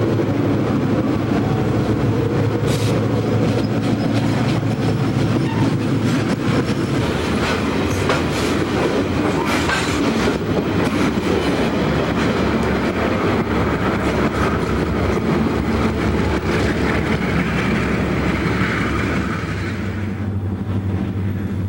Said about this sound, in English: A P&LE train heads down from the Bailey Mine.